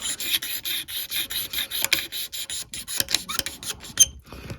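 Scraping the finish off a 1960 Gibson TG-0 tenor guitar, a close, rhythmic series of short rasping strokes on wood, regular at first and then more uneven, with no talking.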